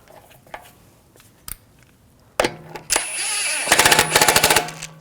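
A power tool hammers in a rapid rattling burst as it snugs a wheel lug bolt on a 2006-2009 Audi S4, loud and close, preceded by scattered clicks and a short whir.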